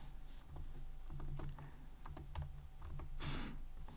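Keystrokes on a computer keyboard clatter at close range, a quick uneven run of clicks with a brief louder burst near the end, no voices.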